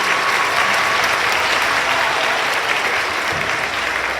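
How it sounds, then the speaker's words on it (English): An audience at a Grandparents Day event breaks into sustained applause, a thick, even roar of many hands clapping at once, loud and unbroken from start to finish. "Let's give them a big round of applause for being a part of this business."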